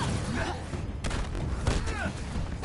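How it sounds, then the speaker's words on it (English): A grenade explosion in the Avengers video game beta, a short booming burst amid dense, continuous game combat noise with layered impacts and effects. "They throw grenades. That's what that explosion was."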